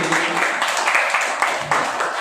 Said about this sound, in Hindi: क्यों ना हम जोरदार ताली बजाए परमेश्वर के लिए और आराधना के लिए